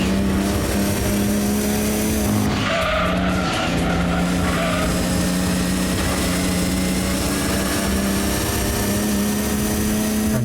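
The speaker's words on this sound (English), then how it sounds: "It's a nice drift there." A race car in Gran Turismo 2 drifts through a GT300 championship corner, its tires squealing loudly over a steady droning engine roar that continues without a break.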